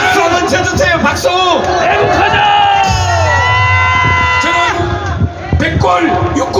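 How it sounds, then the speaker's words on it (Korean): A large crowd at a rally cheers and shouts loudly and continuously, with whoops rising above a dense roar of voices. "박수 한번 쳐주세요."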